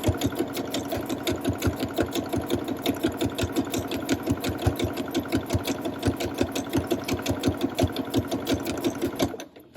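A sewing machine stitches a textured pattern into fabric, its needle hammering in a fast, even, pulsing rhythm, close and loud, running for about ten seconds before stopping.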